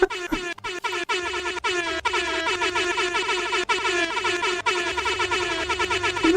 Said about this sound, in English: Where's my air horns?